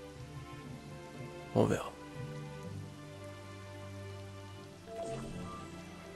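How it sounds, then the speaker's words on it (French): Steady rain in Final Fantasy XV hisses throughout at moderate volume, with a brief voice speaking over it. "À chaque fois, il pleut dans mes vidéos."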